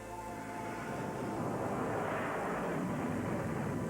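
An aircraft launching from an aircraft carrier flight deck roars as a steady, loud jet rush that swells slightly over four seconds, with no talking.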